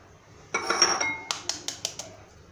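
Sugar and then eggs going into a mixing bowl for an orange cake, a short rustling pour followed by a series of sharp clinks and taps of shell and utensil against the bowl, close and fairly quiet.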